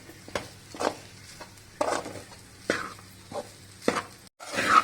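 Chicken sausage, peas and basmati rice coated in masala are stirred in a pan, giving about seven close, irregular scraping strokes with quiet pauses between.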